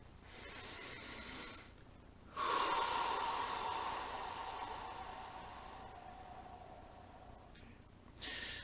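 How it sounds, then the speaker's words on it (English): A person draws one long, slow breath through the nose, a soft airy rush that swells suddenly and then fades gradually over several seconds before a second brief inhale begins. "let's just kind of take a breath"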